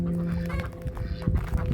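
Ducks on a farm give a short run of loud, nasal honking calls up close, with no talk over them.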